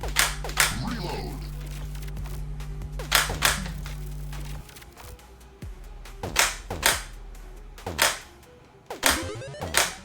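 Gunfire in the shooter game Neon Requiem, with sharp, loud shots in separate bursts and clusters spread across the clip.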